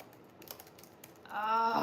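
Quick keystrokes tap on a computer keyboard in a short irregular burst of close, crisp clicks, followed by a voice starting to speak.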